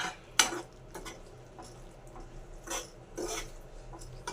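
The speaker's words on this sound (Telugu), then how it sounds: "పల్లీల పొడి కూడా వేసుకొని కలిపేసుకోవాలి" Peanut powder being stirred into a tomato curry in a pan, with a few sharp scraping spoon strokes against the metal amid soft background clatter.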